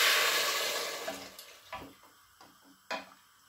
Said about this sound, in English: Now I will now introduce my hot water.